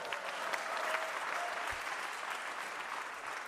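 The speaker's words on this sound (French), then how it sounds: "je vois pas pourquoi vous applaudissez" Studio audience at a live French radio broadcast from Bordeaux giving steady, moderate applause, a continuous even patter of many hands at a slight distance.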